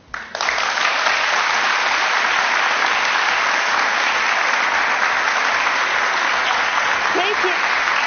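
Sustained, dense applause from a television studio audience fills the whole stretch at steady volume, starting abruptly and continuing without a break.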